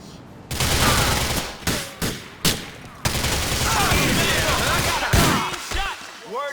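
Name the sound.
gunfire from cover in the video game GTA 4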